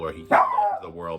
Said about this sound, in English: Oh, there's my dog barking in the background.